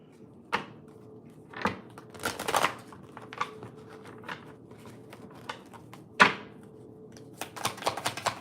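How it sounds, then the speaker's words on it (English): Tarot cards are shuffled in a few separate bursts of quick riffling and soft slaps, close up and fairly quiet, with short pauses in between. "take a little shuffle."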